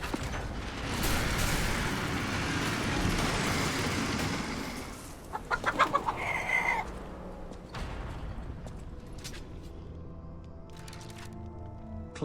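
Chicken-clucking alert sound on a Lies of P game livestream, a short burst of clucks that rises over a steady mechanical game background.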